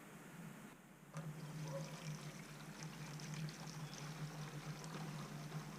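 White vinegar pours into a 2-gallon hand pump sprayer in a continuous gurgling stream that starts after a second and runs steadily at low volume.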